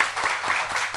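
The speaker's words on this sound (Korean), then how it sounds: "박수." A brief one-second burst of applause from a live talk show audience, fairly dense and moderately loud.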